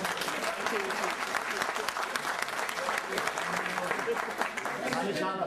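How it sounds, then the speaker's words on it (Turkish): Village audience in Çankırı Akçavakıf applauding, a steady dense wash of many hands clapping that holds loud and even throughout with no pauses. "Ahmet Bey, bu cesaretinden dolayı bir alkış alalım bu arada"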